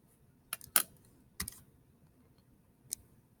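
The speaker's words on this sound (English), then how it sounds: "So I'm just going to go ahead and type in 315." Several sharp key clicks on a computer keyboard tap out a short number in a quick cluster, then one more isolated click follows a moment later, faint and close in an otherwise quiet room.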